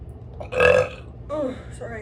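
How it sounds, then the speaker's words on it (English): A person lets out one loud, close burp that swells and fades over about half a second, then a second, softer throaty gulp follows, over a low background hum. "So I have to burp."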